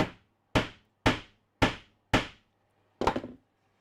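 A hammer drives a wooden plug into the seat of a Lutyens bench, landing five sharp, evenly spaced knocks followed by a rougher, rattling final strike, close and loud with nothing else around.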